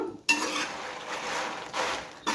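A spoon scrapes and stirs roasted spice powder (madupu karam) in a hot pan just after the stove is switched off, a close, steady gritty rasping broken by a few sharper metal scrapes.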